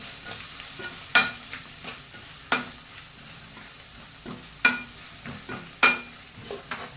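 Spatula strokes stir coriander and cumin powder into potato rice frying in a pan, each stroke a sharp scrape over a steady low sizzle, spaced about a second apart and heard up close without talk.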